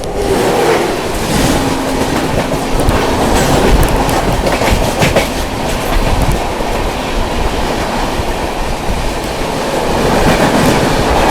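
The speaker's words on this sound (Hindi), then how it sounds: "सामने से क्रॉस होने जा रही है 12512 कोचुवेली गोरखपुर रप्ती सागर सुपरफास्ट एक्सप्रेस" The 12512 Kochuveli–Gorakhpur Raptisagar Superfast Express rushes past at close range, a loud continuous roar of wheels with rapid clickety-clack over rail joints throughout.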